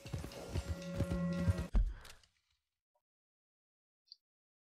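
Horse hooves clip-clop at a walk in Red Dead Redemption 2, a close rhythmic patter over ambient game sound that ends abruptly, followed by near silence and one faint blip.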